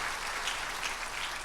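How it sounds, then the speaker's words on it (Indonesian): A church congregation claps for Jesus during a service, a dense steady wash of many hands applauding at once, moderately loud and continuous for the whole moment. "Tepuk tangan buat Tuhan Yesus."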